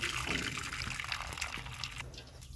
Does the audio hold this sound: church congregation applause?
no